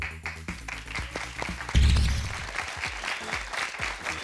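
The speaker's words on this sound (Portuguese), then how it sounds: "palmas pra Letícia, galera" Audience at a Brazilian TV show applauding a singer after her serenade performance, with steady clapping that swells into a louder burst partway through and a few sharper individual claps near the start.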